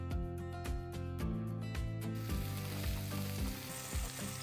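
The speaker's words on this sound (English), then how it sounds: "1 onion slice, and we're gonna saute well, some salt" Sliced onion sautéing with cumin seeds and salt, a soft continuous sizzle that brightens partway through, heard under rhythmic background music.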